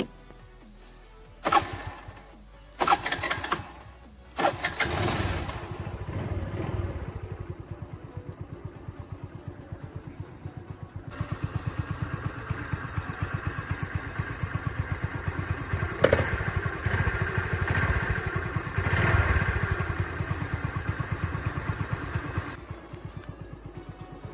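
A TVS Scooty Pep scooter under restoration is started after a few loud clunks and bangs, then settles into a steady, close idle of its small engine that runs evenly to the end.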